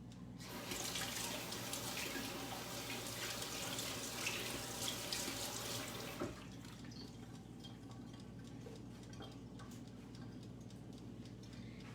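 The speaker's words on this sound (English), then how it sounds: "I'm gonna use my shears to cut them up, which I need to wash first." Kitchen shears being washed under a running kitchen tap, a steady rush of water into the sink with small clicks and clinks, fairly quiet, the flow dropping off partway through.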